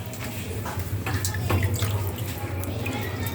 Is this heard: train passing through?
no